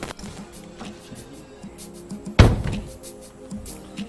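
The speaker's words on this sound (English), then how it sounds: "Close the door." A car door slams shut once partway through, a single loud, sharp thud that fades quickly, with only faint background noise before and after.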